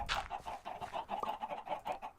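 Minecraft chickens clucking in quick repeated bursts, a steady stream of short fowl calls close up with no talking.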